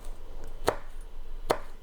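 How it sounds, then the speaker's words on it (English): A knife slicing a roll of fresh basil leaves into strips on a cutting board, two crisp, separate chops close by in a quiet room. "You just roll it up and then you just take a knife and it makes nice even strips"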